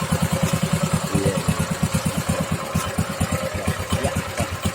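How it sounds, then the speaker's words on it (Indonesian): An engine with a gearbox drives a plastic waste sorting machine in Klampok, Banjarnegara, chugging in a steady, loud, rapid rhythmic pulse with mechanical clatter throughout, close by and with no talk over it. "Ini pakai mesin dan pakai gearbox."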